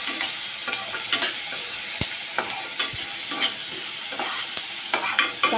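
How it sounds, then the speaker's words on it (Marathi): Chopped capsicum sautéed in a pan for dry cabbage manchurian, a loud close sizzle with repeated rhythmic spatula scrapes and knocks against the pan, no talking. "आता शिमला मिर्च पण परतून घेऊया."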